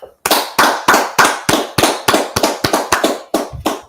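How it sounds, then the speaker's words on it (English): A small group claps together in steady, sharp, evenly spaced beats, about a dozen close, loud claps with no talk over them. "let's clap it up"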